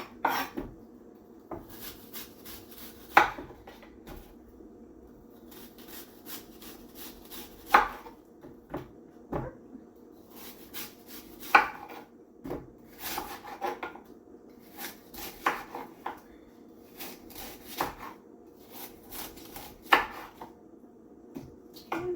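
A knife cuts apples on a board, giving irregular sharp chopping knocks and scraping strokes spread through a quiet kitchen, close and fairly clear with no talk.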